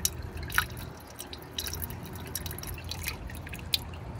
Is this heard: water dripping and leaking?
yes